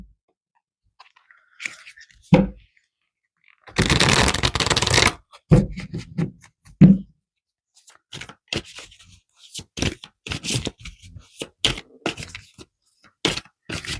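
Tarot cards are shuffled close by in several bursts of riffling and shuffling, one long dense stretch early on and shorter snaps and flicks after it, with no talk.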